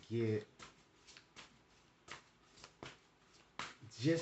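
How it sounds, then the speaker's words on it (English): Quick riffling shuffles of oracle cards, several short bursts spaced across the clip, with a voice talking over them. "I'm going to go on and just shuffle up my oracle cards here"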